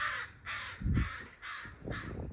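Crows caw outdoors near a porch where a raccoon is moving about. The harsh calls repeat about four times in steady succession at moderate distance.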